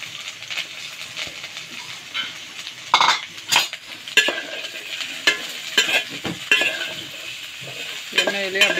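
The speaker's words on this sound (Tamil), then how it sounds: "எண்ணெயிலே அப்படியே வேகணும்." Half a kilo of okra fries in oil for vendakkai poriyal, a constant sizzle under frequent metal spoon scrapes and clinks against the pan, close and busy with no speech.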